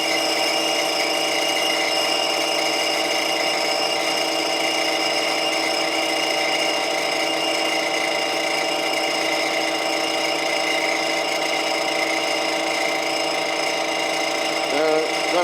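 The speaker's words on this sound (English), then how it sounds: "Now I got the drilling set on a deep drill cycle where it cleans out." Lathe drilling on a deep drill cycle, a continuous steady machine whine and hum with layered tonal drones, loud and unbroken throughout, with a brief scraping chirp near the end.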